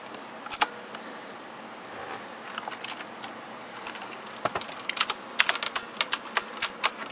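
Steady clicky typing on a Razer BlackWidow Expert mechanical keyboard, close and distinct, starting sparse and speeding into a quicker run of sharp keystrokes near the end.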